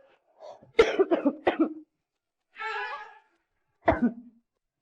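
Several harsh coughs in a quick cluster, then a short raspy breathy sound, then one more single cough, close and fairly loud with quiet gaps between.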